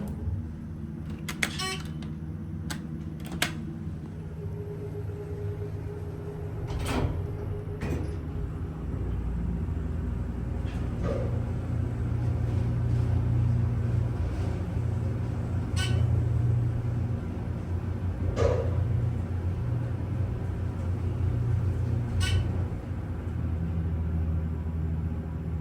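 A nearly 30-year-old Dover Impulse hydraulic elevator's motor hums low and steady beneath the broad whoosh of a running fan, with scattered clicks and clunks of the car and doors throughout.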